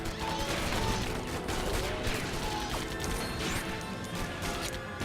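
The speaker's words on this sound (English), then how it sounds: "Blow up those vault things over there." Vault objects in the LEGO Batman game being smashed and blown up, with dense, loud crashes and clattering bursts over a busy game soundtrack.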